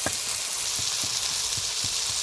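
Garden-fresh greens with turmeric, chili powder and salt being stirred in a hot pan, with a steady bright sizzle of frying throughout and soft regular scrapes of the spoon about every quarter to half second.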